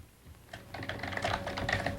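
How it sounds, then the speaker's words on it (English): A seven-year-old child types on a computer keyboard, a rapid run of light, close key clicks that starts after a quiet moment and grows denser, with no talking. "She's typing."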